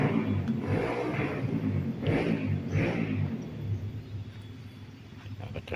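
A neighbor's motorcycle being serviced revs up in several rising bursts a short way off, its engine droning beneath outdoor garden ambience.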